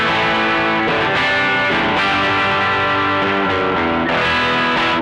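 An overdriven electric guitar, a Fender 60th Anniversary American Standard Stratocaster on the bridge pickup, plays a series of crunchy chords in a steady rhythm, loud and up close, with no voices.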